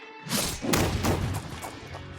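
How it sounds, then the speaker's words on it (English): A sound-effect explosion goes off nearby as a heavy boom and thud that swells and rolls through a few dull crashing pulses, then settles into a low rumble, with no talking. "It's a new explosion, kids."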